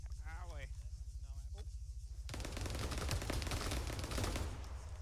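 Sustained heavy gunfire erupts in an Arma 3 combined-arms firefight, dense rapid bursts filling the last half after a stretch of voices speaking over faint background noise.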